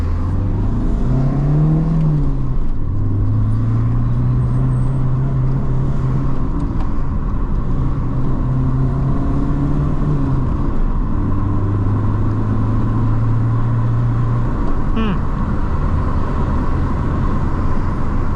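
A Holden JE Camira pulls away on the road, its engine droning steadily from inside the cabin while the pitch climbs and drops through several gear changes under constant road and wind noise, with no one speaking.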